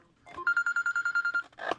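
A mobile phone beeps a quick string of about ten evenly spaced electronic tones, clear and close, with a short burst of other noise right after.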